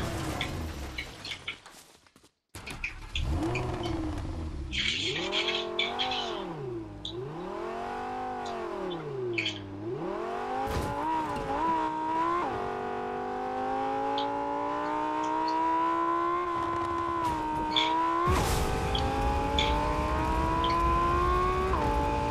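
A Lamborghini driving in Fortnite: a steady engine drone rises and falls through gear changes, revving and accelerating with wavering pitch, then settles into a sustained high whine near and loud, with no talk over it.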